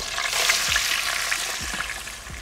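Frozen french fries, split in halves, deep frying in a pot of oil: a steady, dense bubbling sizzle, close and loud, with a few low knocks from the basket or utensil.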